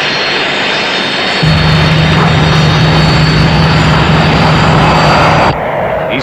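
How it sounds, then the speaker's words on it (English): Military fighter jets roar low over the outskirts of an airfield in a Thunderbirds puppet drama, a loud sustained engine rush with a steady hum that swells suddenly and cuts away after several seconds. "we have diverted these fighters and they are about to overfly the outskirts of this airfield"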